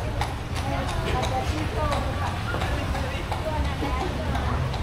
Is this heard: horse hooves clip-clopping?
yes